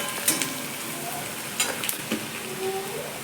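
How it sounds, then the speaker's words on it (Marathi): Onion frying in a pan over a medium gas flame: a close, steady sizzle with a few sharp crackles and spatters and brief stirring scrapes. "गॅस मिडियमच करायचा, म्हणजे कांदा चांगला भाजला जातो"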